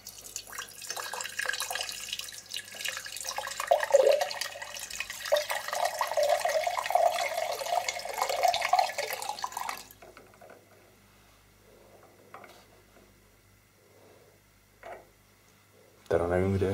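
Water gushes and splashes out of a heat pump heating system's magnetic filter as it drains, a steady pour for about ten seconds that then stops, leaving quiet with faint drips and a few small knocks.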